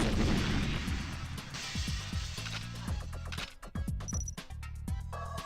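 Rapid explosive blasts and crackling detonations from GoldenEye 007, several booming bursts in quick succession against dense game noise, loud and close with no talk.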